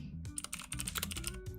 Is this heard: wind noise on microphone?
no